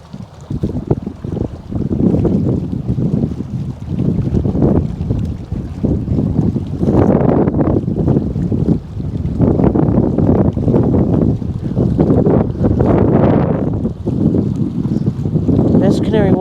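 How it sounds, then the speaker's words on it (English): A boat engine on the River Thames in London drones steadily throughout, loud and close, mixed with gusty wind buffeting the microphone and water rushing past the hull. "You hear the noise from the engine of the boat."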